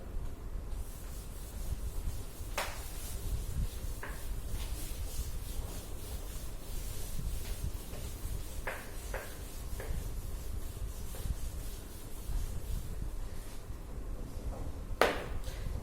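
Chalk or marker writing being rubbed off a classroom board during a chemistry lesson, a steady soft scrubbing wash with a few sharp taps and knocks, fairly close and continuous.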